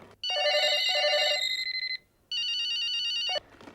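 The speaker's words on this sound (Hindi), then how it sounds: "वो मेरा फोन है।" A telephone rings in two loud, close electronic trill bursts separated by a short gap, heard alone without talk.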